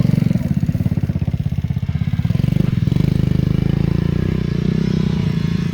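Small two-stroke motorcycles, including a little Honda CRM and a 50cc Minarelli-type bike, climbing a muddy hill, with a loud, rapid buzzing engine throb that holds steady throughout.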